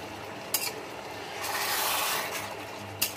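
Two bay leaves are torn by hand over a pan of broiler chicken bhuna with chui jhal. A dry, rustling tear swells in the middle, bracketed by two sharp snaps, close and fairly quiet.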